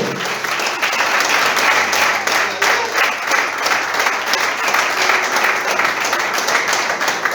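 A church congregation breaks into sustained, loud applause during a Spanish-language sermon. The clapping is thick and even throughout, with a faint murmur of the crowd beneath it.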